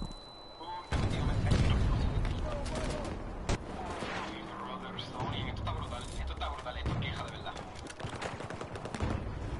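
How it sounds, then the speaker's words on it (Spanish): Gunfire rattles in the Battlefield 2042 video game: dense automatic bursts and sharp single shots come from several directions over a battle din, with in-game voices and a player talking over them. "todos los tiros que se escuchan en todos lados"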